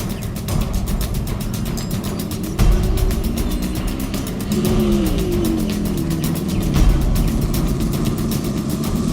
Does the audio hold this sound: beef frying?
no